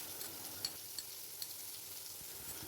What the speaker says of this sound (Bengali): এবার একই তেলে কিছুটা রসুন কুচি দিয়ে দিলাম। রসুনটা একটু ভেজে নিচ্ছি যতক্ষণ না কাঁচা গন্ধটা যায়।